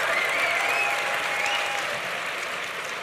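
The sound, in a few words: audience applause, undergraduates clapping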